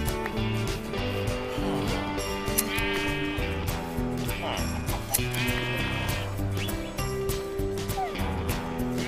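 Sheep bleating in the Minecraft video game, several repeated bleats with clear wavering tones over steady game background sound, while someone talks in Spanish over them.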